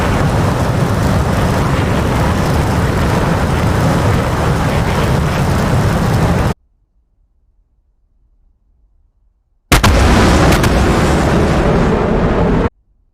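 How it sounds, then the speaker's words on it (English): An F-15 Streak Eagle jet in a flight simulator roars loudly and steadily at supersonic speed during a record climb, a dense broadband rumble that cuts to silence, then returns briefly. "Fast aeroplane."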